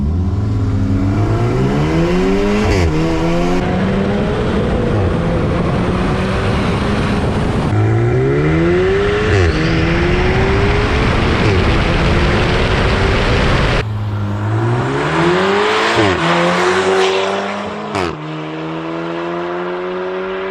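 Loud Volkswagen Golf 7R and 8R engines revving hard from a standing start, pitch climbing through several gear changes as the cars accelerate side by side close by.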